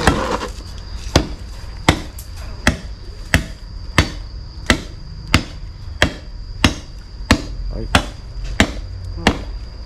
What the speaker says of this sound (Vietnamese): ông đang chặt cây để làm củi